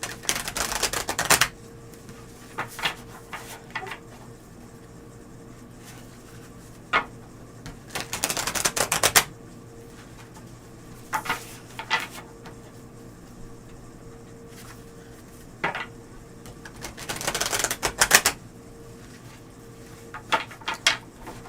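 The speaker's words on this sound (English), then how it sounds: "One more shuffle." Tarot cards are shuffled in bursts: several short, loud riffling rushes separated by quieter pauses with light tapping and handling sounds, and no talking.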